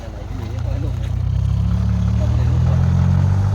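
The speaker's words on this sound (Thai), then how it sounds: "รถไถดึงนะคะ" A heavy tractor engine drones and labors steadily, building in strength as it pulls a vehicle stuck after rain, with a voice speaking over the low rumble.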